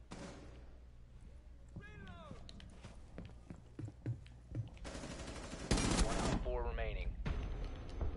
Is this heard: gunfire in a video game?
yes